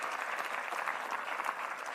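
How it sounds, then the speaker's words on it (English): An audience at a Demo Day event claps for a leadership team, a continuous, even roar of many hands at moderate distance with no break. "please give my leadership team a big round of applause"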